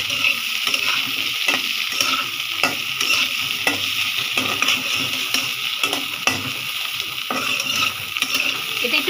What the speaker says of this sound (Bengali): আলুটাও ভাজা হচ্ছে, সাথে পেঁয়াজটাও ভাজা হচ্ছে।